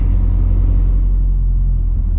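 A car cruises along a road at steady speed while being driven gently for fuel economy, giving a loud, continuous engine and road rumble with no talk.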